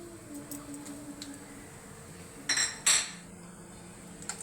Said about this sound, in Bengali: এগুলো একটু সামান্য নাড়াচাড়া করে নেব।